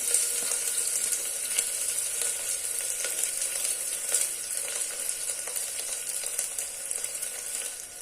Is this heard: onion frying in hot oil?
yes